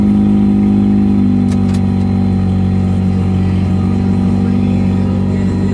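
Engine with a broken choke being choked by hand, running steadily with a loud, constant low hum and rough harmonics, close up and without pauses.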